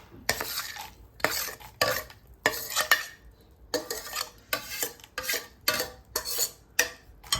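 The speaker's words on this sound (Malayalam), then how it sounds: "നല്ലപോലെ കലക്കണം." Unniyappam batter mixed with fried coconut pieces is stirred briskly in a bowl, a series of rhythmic scraping, clattering strokes with short pauses between bursts, close and alone.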